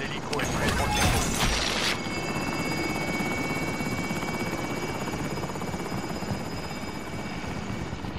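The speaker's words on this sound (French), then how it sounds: "L'hélico est prêt pour le dépôt." Helicopter in a video game standing ready for a drop-off, its rotor and engine a loud, continuous thrumming drone with a steady whine, briefly mixed with rattling impacts at the start.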